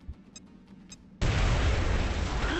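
A frag grenade detonates in XCOM: Enemy Within on Android: after a quiet lead-in with faint ticks, a sudden loud blast erupts and rolls on as a sustained, booming rumble.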